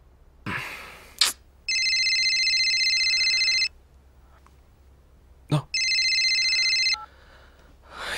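An electronic phone ringtone rings twice in long bursts, loud and close, with brief rustling and a short breath before each ring.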